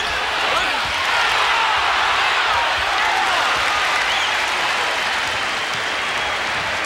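Spectators at an Indiana vs Kansas college basketball game clap and cheer in a dense, sustained wash of applause filling the arena, with commentary voices underneath.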